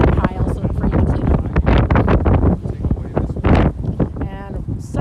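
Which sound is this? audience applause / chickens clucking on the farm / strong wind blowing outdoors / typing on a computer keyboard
strong wind blowing outdoors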